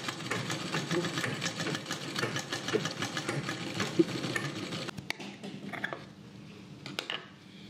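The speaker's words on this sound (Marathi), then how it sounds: "आता आपण ह्या प्लीट्सला शिलाई मारून घेऊयात." Electric sewing machine stitching pleats on a Kalash saree: a close, steady rapid whirring and clatter for about five seconds, then stopping, leaving faint handling noises.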